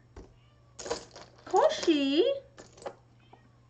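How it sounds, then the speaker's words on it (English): A cat gives a drawn-out, rising meow close by, with a person calling out briefly just before it and a faint hum underneath. "I don't know if you can hear the kitty cat outside the door."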